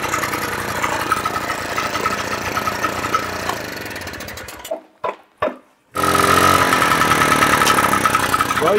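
A Sachs 503 engine revving up through several gears, its buzzing two-stroke note loud and close, cutting out briefly into near silence before roaring back at a steady high idle.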